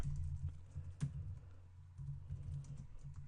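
Typing on a computer keyboard while entering a word for a basic HTML lesson: faint, quick, irregular key taps over a low steady hum, no talking.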